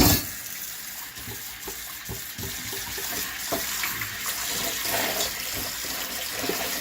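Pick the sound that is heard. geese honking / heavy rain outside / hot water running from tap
hot water running from tap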